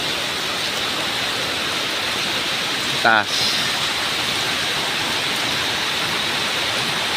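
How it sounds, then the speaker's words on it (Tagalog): Heavy rain and strong gusting wind roar as a steady, dense wash throughout, with a brief faint voice in the middle. "Grabe yung lakas ng hangin, yung ano, yung salibo ng hangin ba"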